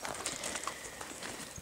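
Faint, quick clip-clop of horse hooves on hard ground, uneven steps in a soft outdoor wash.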